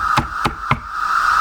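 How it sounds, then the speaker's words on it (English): Three loud, evenly spaced knocks strike a front door, sharp and close, followed by a steady faint hum with no voices. "A loud knock came at the door."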